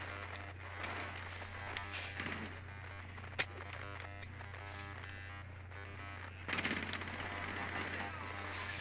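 Rainbow Six Siege gunfire rattles in rapid bursts over a constant low game hum, with one sharp close crack partway through and heavier firing near the end.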